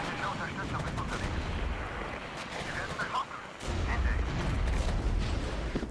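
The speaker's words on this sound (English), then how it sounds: "Artillery strike." Heavy artillery strike in the war game Regiments, booming loud and close in dense rolling blasts with a sharp surge of impact rumble midway, while a voice talks over the barrage.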